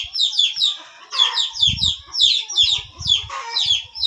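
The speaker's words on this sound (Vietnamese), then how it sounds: "Đây là con gà của bố mình thôi nhá" Young chickens cluck in rapid bursts, with chirpy repeated notes close to the microphone and some low rustling and thumps underneath.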